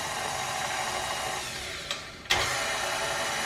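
KitchenAid stand mixer kneading sandwich bread dough at speed 1, a steady motor whir running throughout with a couple of brief knocks near the end.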